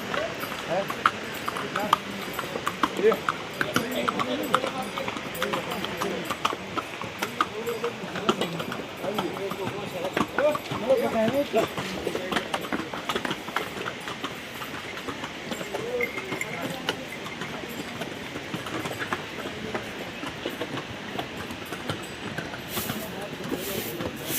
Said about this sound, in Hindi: यहाँ पे आप देख रहे हैं काफ़ी मात्रा में घोड़े खच्चर चलते हैं